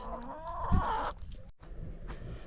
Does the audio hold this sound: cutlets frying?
no